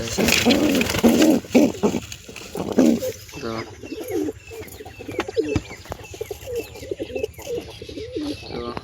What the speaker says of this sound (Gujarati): બધા કબૂતર મસ્તી કરે છે